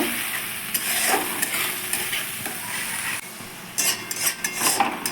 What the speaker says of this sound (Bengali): পেস্ট করা টমেটো কাঁচা লঙ্কা আর আদা তেলে দিয়ে দিচ্ছি ভালো করে এটা একটু কষিয়ে নেব